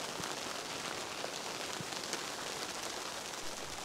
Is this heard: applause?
no